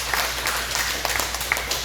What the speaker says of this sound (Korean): 제 말이 맞다고 생각하면 박수 10번 하면 쳐주세요